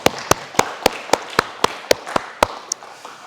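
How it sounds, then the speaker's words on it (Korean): Sharp, regularly spaced claps, about a dozen strikes in steady rhythm, close and distinct over a faint room murmur, as a congregation applauds during a Korean mission church Sunday worship service in Berlin. "영광의 박수 한번 크게 올리겠습니다."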